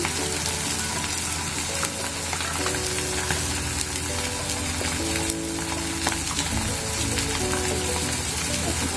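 Ginger and garlic paste with spices frying in a pan while being stirred, a loud, steady close sizzle with repeated scraping strokes, and faint background music underneath.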